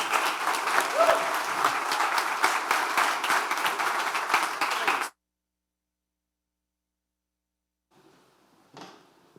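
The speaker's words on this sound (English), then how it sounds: "Please, one applause." Audience applause at a PropTech panel discussion, a dense, steady round of clapping that fills the room for about five seconds, then cuts off into silence, with a faint short rustle and a knock near the end.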